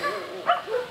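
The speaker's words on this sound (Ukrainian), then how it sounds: "Нині ж собака в безпеці у Кропивницькому реабілітаційному центрі для безхатніх тварин." A dog rescued from Kramatorsk gives a short, close, yelping bark in two quick bursts, with no other sound around it.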